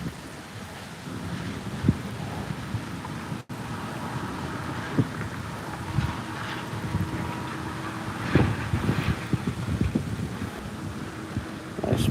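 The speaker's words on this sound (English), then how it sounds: "that wind is something else right now" Strong wind blowing outdoors while fishing, a steady rushing roar buffeting the microphone, with scattered gusts and faint knocks throughout.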